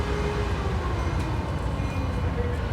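Train at a Bay Area station, Sacramento-bound: a loud, continuous rumbling wash of rail and platform noise with faint tonal hums, close and unbroken for a few seconds, no talk over it.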